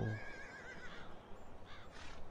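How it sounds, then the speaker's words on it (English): Horses neighing in a stable in a farming video game, a loud whinny at the start followed by further fluttering neighs, with no one talking. "Wow, that's stable for horses."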